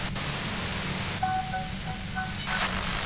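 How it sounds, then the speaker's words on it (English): Steady broadband hiss of a white-noise static effect in the video game Disco Elysium, a constant wash lasting the whole stretch with faint tonal blips drifting in partway through, no voices present. "Her voice trails off into the white noise in your head."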